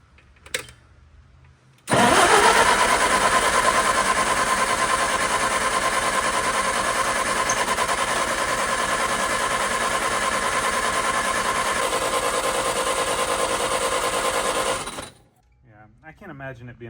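A 1964 Clark Clipper forklift engine, choked, catches after a brief crank and runs steadily and loud for about thirteen seconds before cutting off abruptly, with a faint voice before and after.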